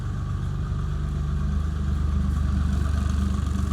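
Farm vehicle engine idling to warm up on a sub-zero winter day on a dairy farm, a steady low rumbling throb running continuously and fairly loud.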